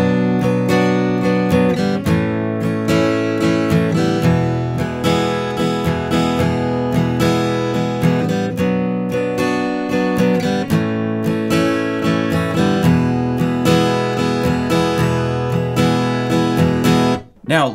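Acoustic guitar strums steadily through a repeating three-chord progression, bright and continuous, the chords changing every couple of seconds.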